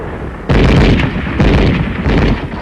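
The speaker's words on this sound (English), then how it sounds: "Our machine gun covers the advance." Machine gun fire in arctic combat: three loud, close bursts of rapid shots with short pauses between them, harsh and booming.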